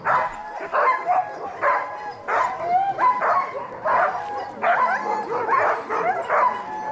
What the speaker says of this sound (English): pay attention to how the dogs sound now versus how they sound while they are running